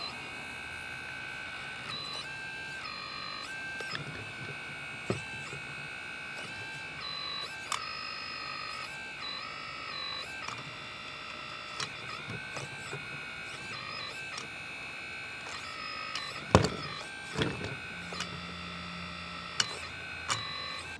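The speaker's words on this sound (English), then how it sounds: "You can hear the hydraulic pump motor running." The small electric hydraulic pump motor of a Double E Volvo EC160E RC excavator whirs steadily with a high mechanical whine, broken by occasional clicks and a brief louder clatter, close and fairly quiet.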